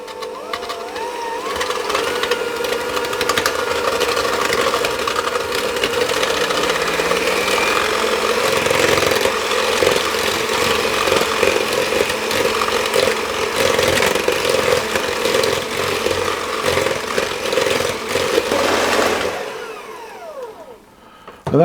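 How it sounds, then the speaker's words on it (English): An electric hand mixer whisks sugar in a bowl, giving a loud, continuous high whir close by for about nineteen seconds, its pitch shifting slightly, before it stops abruptly. "I'm going to whisk those together until the sugar is dissolved basically. And I'm going to use my hand mixer,"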